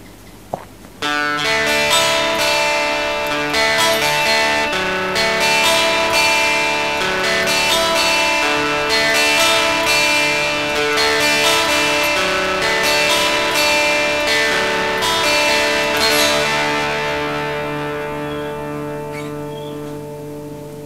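An electric guitar runs through a Boss DS-1 distortion pedal with the tone set high, giving a bright, biting sound as it rings out in a continuous distorted passage that fades at the end.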